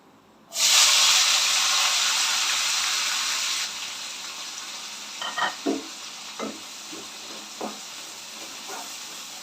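Onions and green chillies hit hot oil in a pan for egg gravy, bursting into a loud sizzle that eases into a steady frying hiss, with a few scraping stirs close by.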